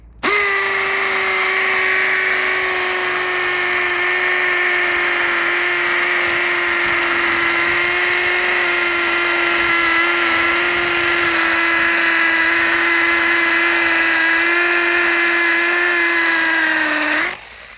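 A SupaCut TCT multi-purpose drill bit bores into concrete-filled masonry block, a loud, steady, high-pitched whining drill tone that runs unbroken for about seventeen seconds and then stops abruptly.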